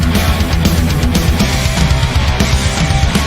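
Traditional heavy metal from the Swedish band Ambush blasts loud and dense, with driving distorted guitars, pounding drums and crashing cymbals in a continuous wall of sound.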